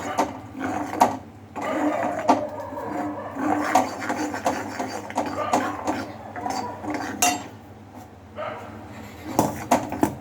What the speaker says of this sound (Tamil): இப்போ நம்ம போட்டு கிண்டிடலாம்.